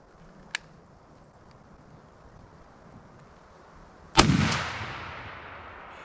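A 12 gauge shotgun loaded with Remington TSS turkey shells and fitted with a Jebs Headhunter .650 choke fires a single loud blast outdoors, a sharp crack followed by a rolling echo, with a faint distant pop heard earlier.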